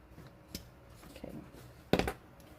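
Scissors snip through paper in a craft session, a few faint, quiet cuts with one sharper, louder snip near the end, with no talking.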